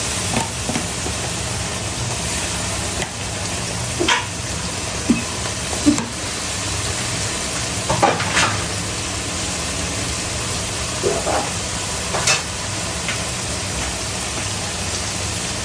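Garlic fries in hot oil for a Bengali beef curry, a steady loud sizzle with occasional pops and spatters close up, no talk.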